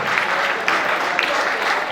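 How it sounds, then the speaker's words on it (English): Audience applause at a national mental health act sensitization workshop: steady, dense clapping from a crowd, loud and continuous throughout with no talk over it. "That applause. No, it can be bigger. It can be better."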